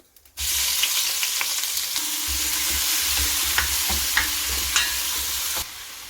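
Ginger garlic paste sizzles loudly in hot oil with cloves, cardamom and cumin, a steady crackling fry with a few scraping stirs, starting abruptly and cutting off near the end, with no talking.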